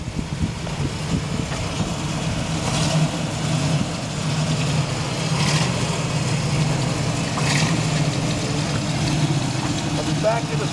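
A 1962 Corvette with a stock exhaust idles as a low, steady engine rumble up close for several seconds, with faint background noise and nearby voices.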